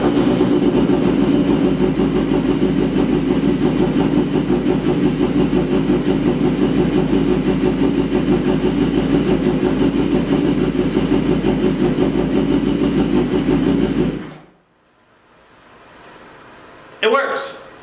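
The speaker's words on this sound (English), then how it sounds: "we're going to fire it up and see if it works" A motorcycle engine runs at a steady, loud, close idle with an even throbbing rumble for about fourteen seconds, then cuts off, leaving quiet, followed by a brief clatter.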